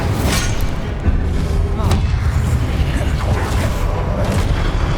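Incendio fire spell cast in Hogwarts Legacy, a dense whooshing burst of flame over a continuous rumble of combat, with thuds and muffled impacts layered through the scene.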